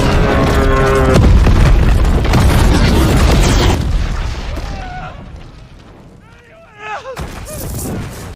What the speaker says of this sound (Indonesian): tepat terjadi ledakan akibat sabotase yang membuat Noe tewas terbakar.